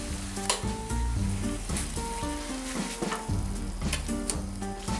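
A torta with panela cheese sizzles steadily on a hot griddle, a close, continuous crackle of frying with occasional scraping knocks as it is flipped, and no voices.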